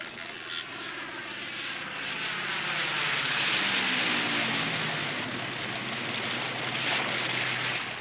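Aircraft engines drone steadily overhead as several planes circle, a broad continuous roar that swells slightly and holds, with faint voices beneath it.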